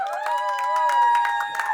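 Applause and cheering from a wedding sangeet crowd, steady clapping with shouts over music-like tones, moderately loud and continuous.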